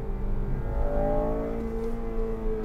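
Honda Civic Type R with a 201-horsepower engine, heard from inside while driving on winding roads: a steady, fairly loud engine drone with rising harmonic tones as it revs, no talk over it.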